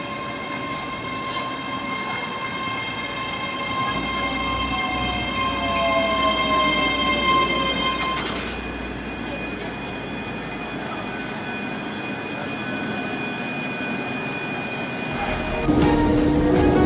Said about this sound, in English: It should be arriving now anyway to pick me up to take me to Polmont.